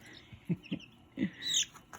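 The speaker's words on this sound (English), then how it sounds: "Black copper Moran, who's quite squawky." A young Black Copper Maran chick squawks in short, sharp chirps, three quick calls followed by a longer shrill cry, close and clear over a quiet room.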